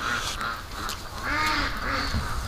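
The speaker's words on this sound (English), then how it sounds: "The ducks are having fun though, playing in the water." Ducks splash and quack in rainwater on a muddy winter homestead, several calls overlapping at mid distance over a steady wash of rain and wet background noise.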